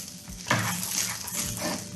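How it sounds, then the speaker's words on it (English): Cut bok choy stalks tossed into a pan with onions, giving a broad frying crackle with light clinks of utensils against the pan, close and steady throughout. "I'm going to cut the stalks and I'm going to throw them in with the onions"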